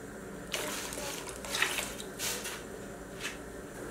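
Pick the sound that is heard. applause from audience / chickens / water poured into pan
water poured into pan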